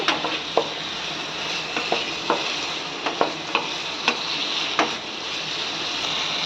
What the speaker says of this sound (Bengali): যে আলুগুলো ফ্রাই করে রেখেছিলাম সেগুলো দিয়ে দেব দিয়ে এটাকে ভালো করে মিশিয়ে নেব